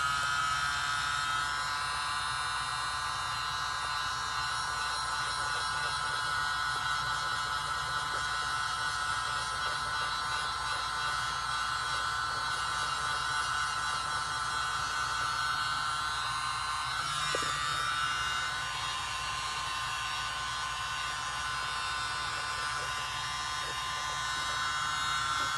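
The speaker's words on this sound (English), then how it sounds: "I have my mini blower" A small handheld mini blower pushing out acrylic paint on a pour painting, giving a constant high-pitched electric whine and airy hiss that runs the whole time with one brief dip, close and alone.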